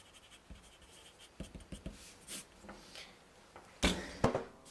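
A pencil sketches a caribou on paper, producing quiet, close scratches and short strokes in irregular bursts, with a few sharper scribbles near the end.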